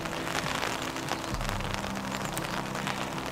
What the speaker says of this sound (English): The rain's arrived.